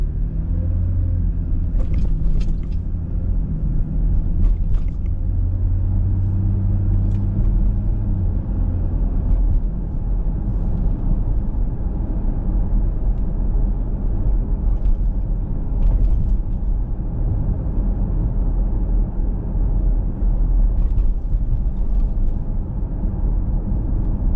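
Car traffic idles and rolls past at a traffic light on Avon Mountain Road, a steady low rumble of engines held close and constant, with a few faint higher mechanical clicks and no voices.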